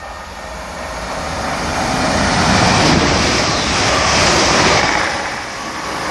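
A Class 350 Desiro electric train bound for Liverpool passes Acton Bridge station, a loud broad rushing roar that swells to a peak midway and eases slightly, with no talk over it.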